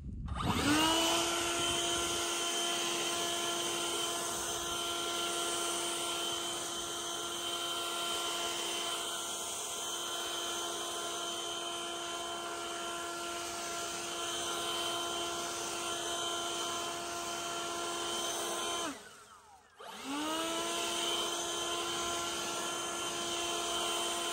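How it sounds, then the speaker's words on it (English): A 58V cordless leaf blower runs loud and steady at close range, its whining motor and rushing air clearing wet, heavy leaves, with one brief throttle dip near the end before it surges back. "I don't know if you can tell, but the leaves are wet and heavy as well. And it's still blowing them off, no problem."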